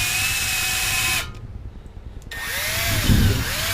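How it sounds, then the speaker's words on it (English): A power drill spinning a carboy cleaning wand whirs at high speed, stops briefly, then spins up again with a rising whine and some rattling against the glass carboy, close by. "Turn on the drill, and you can see how it just cleans that area on the top."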